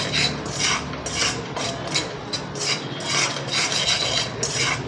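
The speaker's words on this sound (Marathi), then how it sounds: "आणि हे सर्व आपण पोह्यामध्ये घालून आता हे पोह्यांना मिक्स करून हाताने" Fried nylon poha chivda is tossed with spices by hand in a bowl, making close, crisp rasping rustles that come in repeated strokes, roughly two each second, with no talking.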